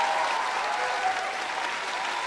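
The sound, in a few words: studio audience applause for the TV show winners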